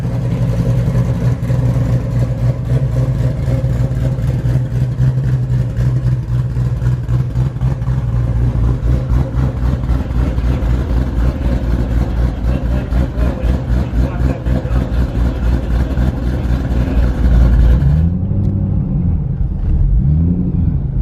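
A Shelby GT500 on a dyno holds a loud, steady high-rev engine roar with a rapid pulsing exhaust note for most of the run, then the revs drop and it settles into a quieter, wavering idle near the end.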